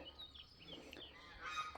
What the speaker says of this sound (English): Ducks can make the strangest noises ever.